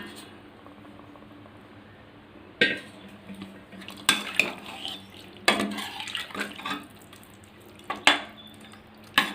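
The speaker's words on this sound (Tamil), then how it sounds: "அந்த மட்டனையும் இந்த தண்ணியும் சேர்த்து அப்படியே மிக்ஸ் பண்ணிக்கலாம்" Cooked mutton and water are stirred together in a pot for biryani, giving intermittent metallic scrapes and clinks of a spoon against the pot with soft watery sloshing between, close by and without talk.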